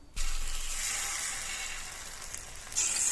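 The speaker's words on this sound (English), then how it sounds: "we're frying these beauties in a pan with a sprinkle of sea salt and black pepper" Steady, close sizzling of chicken frying in a hot pan, a continuous crackle that swells slightly louder near the end, with no voices.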